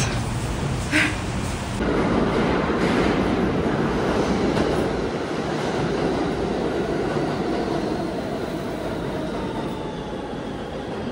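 A Brooklyn subway train rumbles steadily along the tracks, a loud continuous roar with faint rattling, heard from inside the car.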